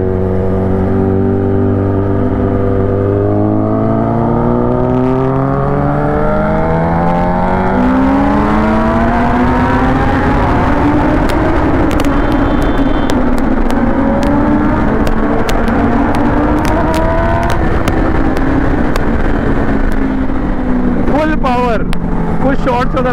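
A motorcycle engine drones steadily at close range on a Sunday group ride from Delhi to Gurugram, its pitch sweeping up and down through gear changes and revs, with a voice talking over it.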